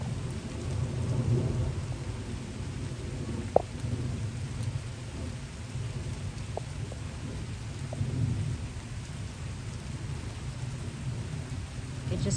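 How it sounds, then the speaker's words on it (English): Sudden outdoor rain falls with a low, rolling rumble of thunder underneath, a continuous wet wash broken by a few faint, sharp ticks of drops. "It just started raining out of nowhere."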